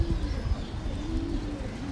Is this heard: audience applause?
no